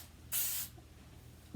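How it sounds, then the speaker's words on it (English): Regular hairspray spritzed onto natural hair in a single short, close hiss lasting about a quarter second, followed by quiet. "I take my regular hairspray and I like to just"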